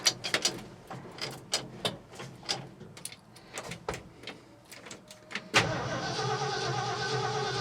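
A 1967 Ford truck that has not run in a while cranks with repeated uneven starter bursts, then catches and settles into a steady, loud running idle.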